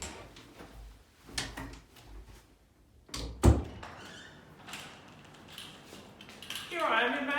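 A door opens with a sharp thunk partway through, amid faint indoor room noise, a few softer knocks and a voice in the background.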